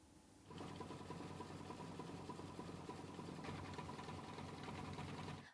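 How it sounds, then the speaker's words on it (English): A sewing machine stitches raw-edge vinyl appliqué onto a mini quilt vase block, running in a steady, close whir with a fast, even rhythm throughout. "it's going to do one final stitch."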